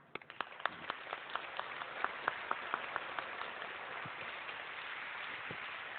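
A single pair of hands clapping loudly in praise, about a dozen sharp, evenly spaced claps in quick rhythm over faint room noise, then thinning out to a couple of stray claps.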